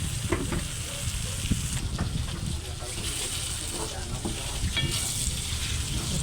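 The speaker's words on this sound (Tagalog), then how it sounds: "Mix lang natin ng mabuti na mag-combine yung mga flavors." Filipino-style spaghetti sauce sizzles steadily in a pan while being stirred, with scraping and clinking of the utensil over the continuous frying hiss.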